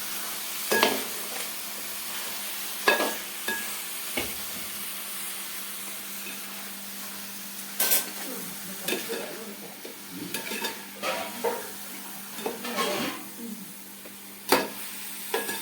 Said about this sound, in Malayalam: ചിക്കൻ അതിലേക്ക് ചേർക്കുന്നത് നമുക്ക് നന്നായിട്ട് ഇളക്കി കൊടുക്കാം.